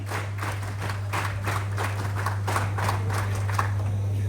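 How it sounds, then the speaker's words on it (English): NCC cadets at a prize distribution clap together in a steady, regular rhythm, about three claps a second for several seconds, over a constant low electrical hum. "NCC clap, shuru kar."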